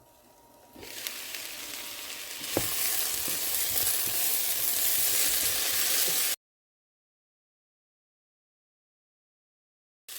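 Yellow cucumber stir fry sizzles steadily in a pan, a loud continuous crackle with a sharp clatter partway through, then it cuts to silence.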